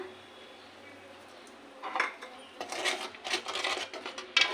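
Metal spoon stirring and scraping in a wok holding water, oil and salt, a few irregular clinks and scrapes that grow busier toward the end, close and fairly quiet with no talk.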